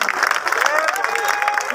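An audience claps at a Brahmin community gathering, a moderate wash of applause mixed with voices that rise over it.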